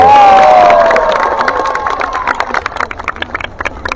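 A large crowd at an Indonesian political rally in Surabaya cheers and claps loudly, the roar fading over a few seconds into scattered clapping and shouts.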